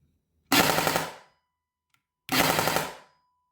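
A Specna Arms SA-E06 EDGE 2.0 airsoft rifle with a HAL2 mosfet fires two separate bursts in breakable mode, each a fast, close mechanical rattle of about five shots, with silence between them.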